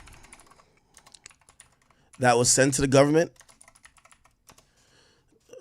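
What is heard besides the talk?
typing on a computer keyboard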